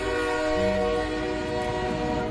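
A train in the video game GTA 5 sounds a loud sustained horn, a steady tonal blare with rumbling rail noise underneath, close and continuous throughout.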